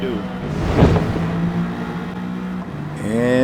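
Turbocharged AMG GT race car exhaust at a race start in Gran Turismo 7, in a field of about 20 cars: a loud engine drone with a rising rev and gear-change pitch sweeps, mixed with talk.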